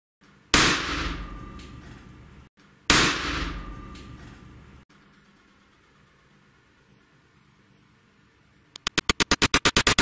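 A car seat airbag fired by a 12 volt battery gives two sharp, loud bangs a couple of seconds apart, each followed by a decaying hiss, then a rapid train of clicks near the end.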